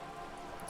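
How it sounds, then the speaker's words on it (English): Steady rain in Disco Elysium, a dense even hiss of falling drops with a few faint high splashes, heard alone. "The rain is freezing."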